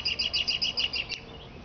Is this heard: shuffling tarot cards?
no